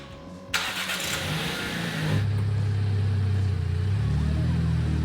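A four-cylinder-swapped MINI engine cranks and catches, then settles into a loud idle with a rising rev near the end.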